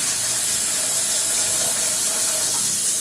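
Water poured into a large cooking pot for boiling potatoes and sago, a steady rushing hiss of liquid filling the vessel, continuous and fairly close.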